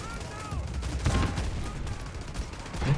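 Gunfire in the mobile shooter Delta Force Mobile, several bursts of shots at uneven intervals with a heavier thump near the end, mixed with game noise and someone talking over it.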